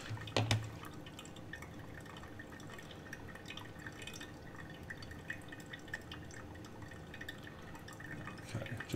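A coffee maker finishes brewing with faint, irregular drips and small liquid trickles, soft and close in an otherwise quiet room, after a brief louder knock at the start.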